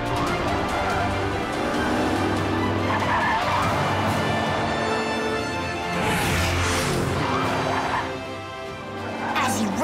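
A Matchbox toy car races across the desert and skids, its engine revving and tires squealing loudly over a dense, busy soundtrack with a few sharper screeching bursts.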